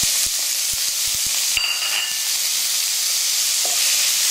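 Brussels sprouts stirred into hot panch phoron spiced oil for an Indian curry, a constant bright sizzle with a few soft knocks of the spoon early on, close and steady without talk.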